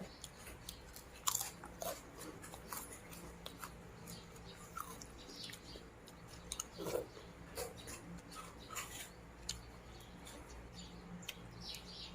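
Crispy Thai rice crackers eaten alongside stir-fried cucumber with egg, crunched close to the mic in scattered sharp bites and chewing over a quiet room background.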